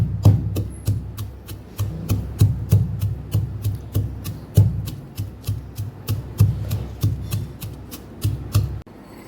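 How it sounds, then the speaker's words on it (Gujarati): Garlic is pounded with salt and cumin for chutney in steady rhythmic strikes, roughly two to three thuds per second, close and moderately loud, with no talking. "લસણને આપણે સરસ ખાંડી લેવાનું છે"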